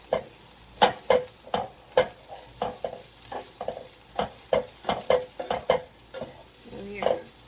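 A spoon or spatula stirring food frying in a pan, close scraping strokes in a steady irregular rhythm over a low sizzle, with no one talking.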